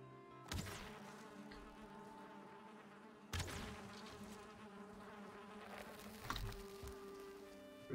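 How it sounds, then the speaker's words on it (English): Bees buzzing in the video game Valheim, a steady droning hum with two sharp bursts of louder effects cutting in, fairly quiet overall and with no talk. "More bees over here, which is amazing."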